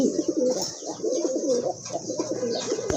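A pair of pigeons cooing softly at close range, repeated low throaty coos in a steady rhythm over a faint hiss, with no talk.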